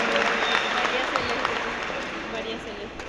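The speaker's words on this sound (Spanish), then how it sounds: "Un aplauso para la mamá de ella también." Sustained applause from a church congregation, a steady wash of many hands clapping evenly throughout, with some talk mixed faintly beneath it.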